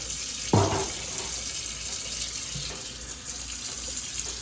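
A raw brisket is rinsed under a running kitchen tap, water splashing steadily into the sink with a brief louder gush near the start and a softer splash later.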